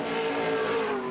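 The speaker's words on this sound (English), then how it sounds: "Running strongly, Gary Rogers, the Soundwave Discos V8 Commodore." A Holden V8 Commodore touring car races at Bathurst's Mount Panorama. Its engine gives a loud, steady, close roar at sustained high revs with a slight pitch shift, and no voices.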